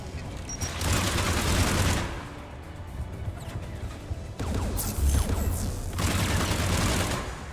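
A gun turret in Mass Effect 3 fires in repeated loud, rattling bursts separated by brief quieter lulls, sounding fairly close.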